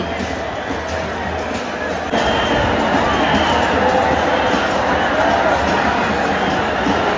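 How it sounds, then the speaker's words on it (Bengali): Dense crowd of devotees at the Puri Rath Yatra chariot festival in Puri, a steady roaring babble of many voices that swells louder partway through and stays thick and continuous. "যত দুপুর গড়িয়ে বিকেল নামছে ততই যেন ভক্তের ঢল নামছে।"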